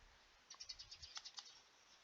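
Birds chirp outside in a quick series of about a dozen faint, high, rapid tweets lasting about a second, with no talk.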